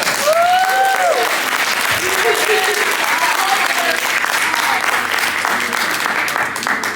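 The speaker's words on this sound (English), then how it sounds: "Let's give the parents a round of applause." A room of guests at a school championship dinner applauding the parents, sustained clapping throughout, with brief whoops and cheering voices riding over it early on.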